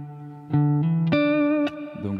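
An electric guitar on a single coil pickup with light reverb plays a short lick of several clear picked notes, each ringing and sustaining with a soft reverb tail, loud and alone.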